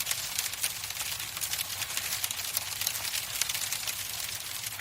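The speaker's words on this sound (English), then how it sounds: "That's the sound of hail, one of Jeff Simmons' earliest memories." Hail falls in a steady, dense patter of many tiny hits, a constant hiss-like rattle at low volume with no voices.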